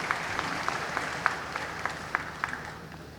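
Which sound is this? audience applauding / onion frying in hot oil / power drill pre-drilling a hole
audience applauding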